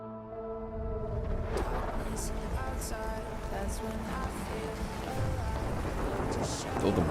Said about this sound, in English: All the rain and everything, very spooky.